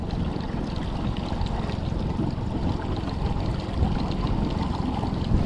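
A small boat's outboard motor in gear at low revs, heard as a steady low rumble mixed with water sloshing, constant and moderately close with no talk.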